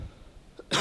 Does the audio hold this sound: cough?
yes